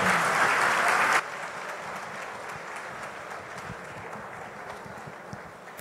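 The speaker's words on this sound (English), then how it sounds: "A round of applause, please." Audience applause at a question-and-answer session on the Nigerian economy, loud dense clapping that suddenly drops after the first second and continues as a softer, steady patter for several seconds.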